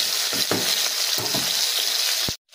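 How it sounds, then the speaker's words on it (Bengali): Potatoes fry in a pan with a loud, continuous hiss of oil and several stirring scrapes, ending abruptly, with no talking. "ভাজা হোক একটু আলুগুলো।"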